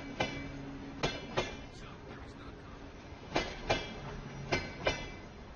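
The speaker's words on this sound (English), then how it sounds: "after hearing the sound of the train" A train rolls past with rhythmic clickety-clack thumps from the wheels over the rail joints, coming in spaced pairs over a low, steady rumble.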